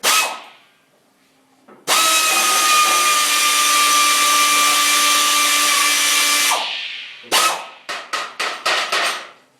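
Power tool working an oil pan bolt loose on a Ford 289 engine during a rebuild: a long, loud, steady whine for about five seconds, then several short, rapid bursts in a row, close up with no speech.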